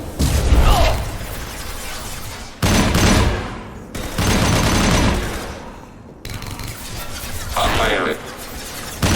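Heavy automatic gunfire in Mass Effect 2 combat rattles in loud, dense bursts separated by sudden cutoffs, with clattering impacts and voices shouting over the firefight.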